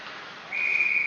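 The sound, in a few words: referee whistle at a high school hockey game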